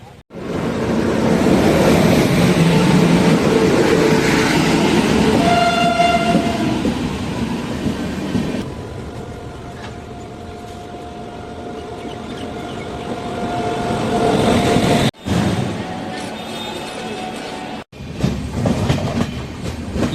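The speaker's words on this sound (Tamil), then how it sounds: "train number 12682 Coimbatore Chennai central weekly super fast express தான் இன்றைக்கி நம்ம ட்ராவல் பண்ண போகிறோம்" Weekly superfast express 12682 from Coimbatore to Chennai Central running along the track: a loud rolling rumble with rhythmic clickety-clack and a brief horn blast, the roar easing midway before steady wheel noise returns with a few sharp knocks.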